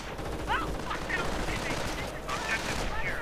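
Rapid gunfire crackles through a Star Wars video game battle as stormtroopers are gunned down. Dense bursts of shots repeat over a busy layer of game noise, with short chirping effects scattered throughout.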